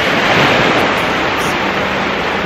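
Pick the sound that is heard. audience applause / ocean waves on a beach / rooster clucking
ocean waves on a beach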